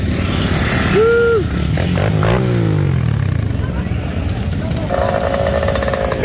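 A vintage Hodaka Bonanza MX-14 motorcycle with a Hodaka H100 engine runs at a vintage motorcycle meet, a loud, close, rough two-stroke rasp that revs and settles while people talk nearby.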